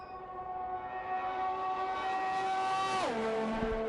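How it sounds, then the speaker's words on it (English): A race car engine in a racing video game on the Baku street circuit with DRS open: a steady high-revving whine climbs gradually, then drops sharply near the end. No talking. "As he opens DRS, you hear the car hit the higher revs"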